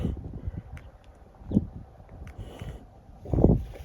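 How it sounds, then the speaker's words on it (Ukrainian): Wind gusts outdoors buffet the microphone in uneven bursts, with stronger rushes around the middle and near the end, while someone works with a sublimator made from a soldering iron. "Просто вітер, вітер здуває, не дуже видно"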